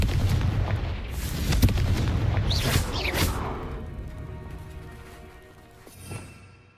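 Blasts of the Confringo explosive spell in the Hogwarts Legacy video game, a loud rumbling burst of booms and crackles up front that fades into a quieter tail, with a smaller thud near the end.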